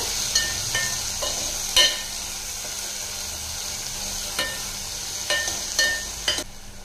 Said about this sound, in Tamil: தக்காளி வந்து நல்லா வதங்கிடுச்சுங்க